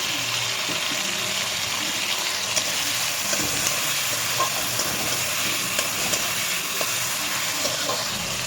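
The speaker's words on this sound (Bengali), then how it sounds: "জিরে দিলাম, তেজপাতা, টমেটোটা একটু ভাজবো" Tomato frying in oil with cumin seeds and bay leaf, making a constant close sizzle with light crackle and the odd stir, and no talk.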